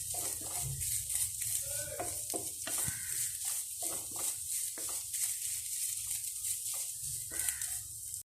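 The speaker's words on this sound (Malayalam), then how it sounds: "അരക്കപ്പ് തേങ്ങ തിരുമിയത് ഒന്ന് വെളിച്ചെണ്ണയിൽ മൂപ്പിച്ചെടുക്കുന്നുണ്ട് കേട്ടോ" Half a cup of grated coconut sizzles and fries in coconut oil in a pan for a Kerala-style kappa biriyani, with repeated scraping stirs of a spoon over a steady close hiss.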